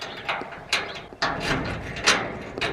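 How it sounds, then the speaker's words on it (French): A key turns in a garage door lock and the mechanism is worked open, giving a few close metallic clicks and ratcheting clunks in an uneven rhythm, with no talk. "J'ai pris aussi la clé du garage pour pouvoir ouvrir le garage"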